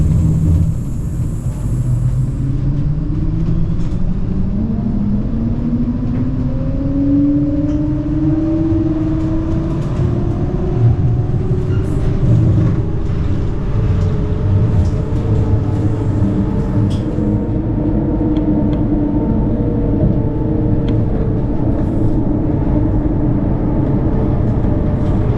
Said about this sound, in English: Now we've heard the sound of the City Runner of the 2nd generation